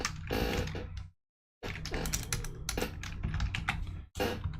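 Fingers type quickly on a computer keyboard, a dense, close clatter of key presses with a brief pause partway through and no voices.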